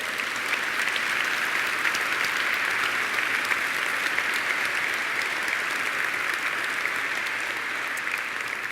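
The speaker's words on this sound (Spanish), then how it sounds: "Denle un aplauso al Señor." A church congregation applauds steadily and loudly for the whole stretch, a dense even wash of many hands clapping with no voices breaking through.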